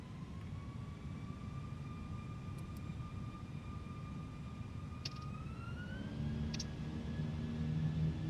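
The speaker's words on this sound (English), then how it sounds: "Takeoff fuel 9640 and rolling takeoff." Airbus A319 jet engines spooling up during a takeoff roll, a steady broadband roar with rising whining tones that climb in pitch and grow louder toward the end, heard from inside the aircraft.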